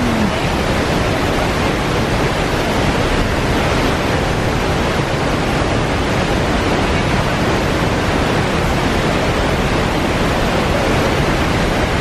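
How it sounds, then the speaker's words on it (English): A Costa Rican waterfall roars as a loud, continuous broadband rush of falling water, steady and unbroken throughout with no voices. "Just outside the waterfalls."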